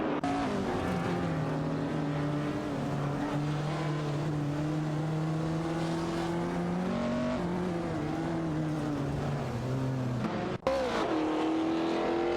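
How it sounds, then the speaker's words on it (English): Race car engines in an AI racing video game, including a Toyota Celica and a Fiat X19, roar loudly and continuously with rising and falling pitch as they rev and shift, overlapping in a close battle. "A thrilling battle for third place is happening between NRF Society in a Toyota Celica and Suzanne Greenberg in a Fiat X19 Dallara Jetta"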